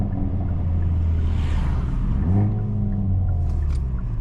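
A Hyundai i30N with a GPF-back exhaust mod gives a deep, steady exhaust rumble up close. The tone swells briefly midway as if revved, then settles back to a low drone with no talking.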